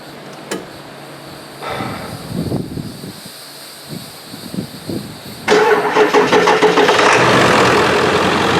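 A 2002 Ford F250 Power Stroke diesel cranks slowly with a few labored turns, then catches and roars to a loud, rough idle up close in a garage after a battery and alternator replacement.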